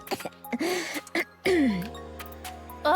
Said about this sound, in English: How is anyone supposed to sleep with you coughing up a storm?